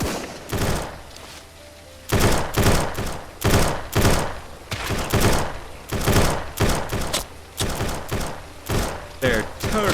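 Bandits fire at the player in an open-world survival video game: loud, close bursts of gunfire in uneven clusters, separated by short lulls and mechanical clatter.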